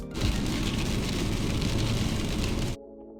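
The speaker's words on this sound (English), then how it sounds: "now it's raining pretty hard" Heavy rain drums hard and steady on a vehicle's roof during a drive on Mljet Island, Croatia, a loud dense hiss that continues for nearly three seconds and then stops abruptly.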